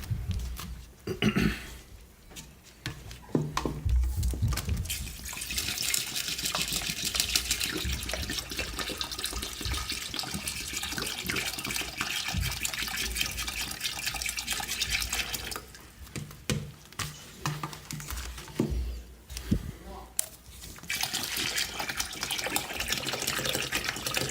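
Stored water is poured from bottles into a planted 2.5-gallon betta tank, with a long, steady, close glugging stream that breaks briefly and then resumes, with no talking.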